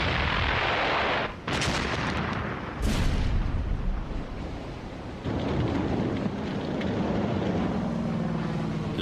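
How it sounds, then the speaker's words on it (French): A World War II U-boat's deck gun fires heavy booming blasts over a dense rumbling roar, a few sharp reports standing out before continuous thunderous noise rolls on. "Le plus souvent, les U-boats opèrent en surface, coulant leur proie à l'aide du canon situé sur leur pont."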